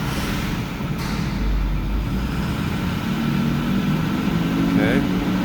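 A new fan clutch spun up on a 2009 6.4 diesel engine gives a steady, loud whooshing roar that holds throughout, with a deeper rumble swelling in the middle and a faint whine near the end.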